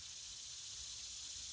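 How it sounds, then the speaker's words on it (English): Cicadas buzz in a steady, high, hissing drone that fills the whole short stretch, faint and distant-sounding with no change in rhythm and no voices. "Lots of cicadas."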